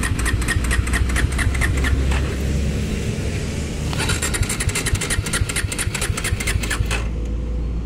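Bajaj Dominar 400 motorcycle with a starting problem, its engine idling in a rough, uneven patter with rapid ticking bursts that cut out and return, heard close and without talk.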